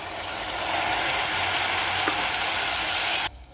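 Tomato sauce is poured onto toasting vermicelli in a hot pan, raising a loud, steady sizzle that runs for several seconds before cutting off abruptly near the end.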